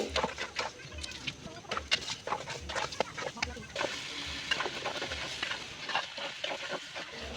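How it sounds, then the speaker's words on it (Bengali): Polao rice grains fry in oil in a pot and are stirred steadily, giving a continuous sizzle with scraping and clinking strokes, while roosters cluck faintly in a rural home setting. "এবার পোলার চালগুলো দিয়ে দেওয়া হচ্ছে মায়ের হাতের পরম যত্নে খুব সুন্দরভাবে চালগুলোকে ভেজে নিচ্ছে"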